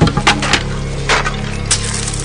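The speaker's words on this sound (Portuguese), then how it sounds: "Virou as mesas dos que trocavam dinheiro." Wooden money changers' tables being overturned, heard as a series of loud close knocks and crashes of wood, scattered irregularly over a low ambient rumble.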